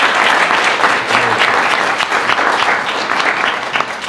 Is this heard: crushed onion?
no